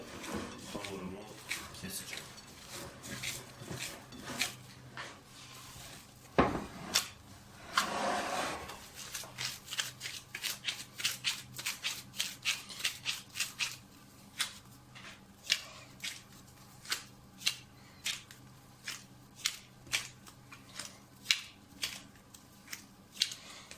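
Rolled-out pogaça dough is cut into pieces with a long series of crisp, regular snipping clicks, near and fairly quiet, as a voice talks at times.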